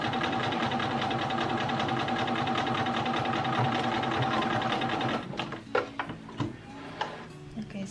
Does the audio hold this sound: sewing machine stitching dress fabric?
yes